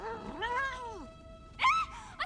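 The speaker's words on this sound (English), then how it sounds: "That's a cat." A cat meows in the video game Elder Scrolls Online, two drawn-out rising-and-falling calls, the second shorter and sharper, fairly close against a quiet background.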